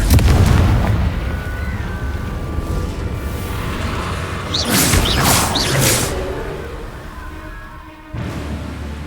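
A Confringo spell explosion goes off in Hogwarts Legacy. A booming blast with a whooshing burst swells in the middle of a busy, rumbling soundscape and then thins out, with no talking heard.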